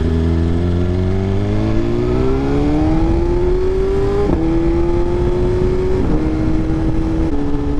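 A BMW S1000RR sport motorcycle engine drones loud and close while riding, its pitch climbing steadily through the gears with brief dips at each shift, steady wind noise underneath and no talking.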